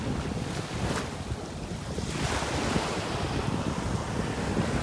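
Ocean surf on the beach at North Naples, Florida, washing in close with a swelling rush, heavy wind buffeting the microphone throughout.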